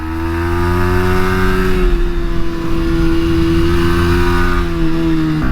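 A Yamaha 125cc motorcycle, an MT125 or R125 from 2023, accelerates on a tight, technical race circuit. The engine note is loud and close, and its pitch climbs and shifts steadily as the bike pulls through the gears.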